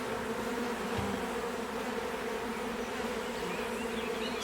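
A honeybee swarm on four hive frames buzzes steadily and closely, a dense continuous drone throughout with no talking.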